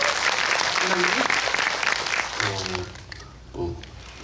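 A cinema audience at a Korean film talk event gives sustained, dense applause that fades after about three seconds, with voices rising underneath as it dies down.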